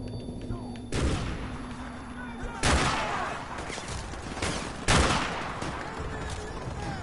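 RPG and sniper fire in a video game: three loud, sharp blasts spaced a couple of seconds apart, each followed by a decaying echo, with scattered gunfire and a voice in between.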